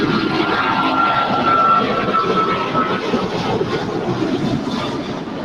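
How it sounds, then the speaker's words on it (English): Airliner jet engines roaring at LAX airport, a loud, steady, broad rumble with a faint whine that swells slightly and then eases, heard alone with no talk. "I love the sound of those engines."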